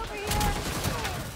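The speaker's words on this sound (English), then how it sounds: "Get out of the way, I'm shooting." Gunfire in the video game Gotham Knights: a quick burst of rapid shots, close and fairly loud, over a short stretch of game background.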